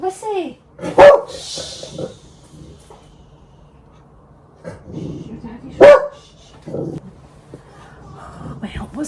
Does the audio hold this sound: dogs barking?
yes